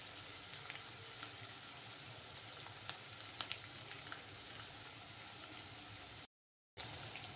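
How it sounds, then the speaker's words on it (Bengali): Potato and ginger fry in a pan with a steady, fine sizzling hiss flecked with small crackles and pops. It stays close but fairly quiet and continuous, with a brief cut to silence near the end and no talking. "আমি আলু আর আদাটাকে, আদার একটু কাঁচা গন্ধটা না যাওয়া অবধি একটু ফ্রাই করে নিতে হবে"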